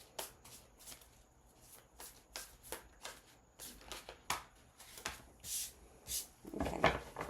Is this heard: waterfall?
no